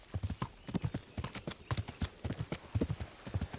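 Horse hooves clip-clopping in steady, even rhythm during a relaxed ride in Kingdom Come: Deliverance, close and distinct, with a faint whinny and no talk over the hoofbeats.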